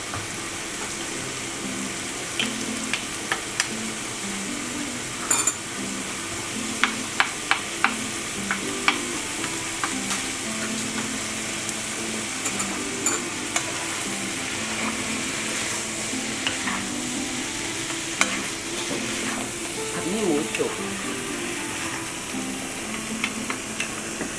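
Holy basil leaves and pork stir-fried in a pan give a steady sizzle with scattered scraping and clinking strokes throughout, close and fairly loud, with no talking.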